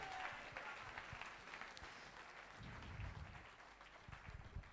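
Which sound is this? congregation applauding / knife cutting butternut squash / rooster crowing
congregation applauding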